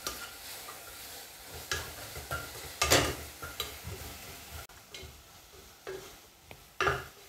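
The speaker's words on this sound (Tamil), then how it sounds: "சேர்த்து எல்லாம் சேர்ந்து கலந்து வர அளவுக்கு கலந்து விட்டுக்கொள்ளுவோம்." Filling for Sri Lankan rolled pancakes is stirred in a pan, giving repeated scraping and stirring strokes with soft sizzling beneath, a louder rasping sweep near the middle and another toward the end.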